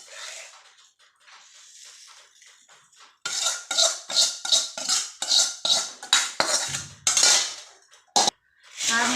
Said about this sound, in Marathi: हा मसाला चुरमुऱ्यात छानपैकी आपण मिक्स करून घेऊया।